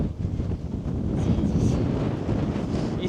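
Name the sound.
strong wind blowing on a hilltop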